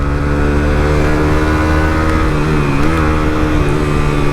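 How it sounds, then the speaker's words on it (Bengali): A Suzuki GSX-R150 motorcycle fitted with a new exhaust drones loudly and steadily close by, its engine note rising slightly in a brief rev midway, with no speech. "আমার বাইকের যে সাউন্ডটা এখন শুনতে পাইতেছেন এটা কিন্তু নিউ এক্সজস্টের"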